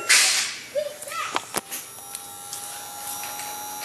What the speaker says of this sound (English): The motor's still running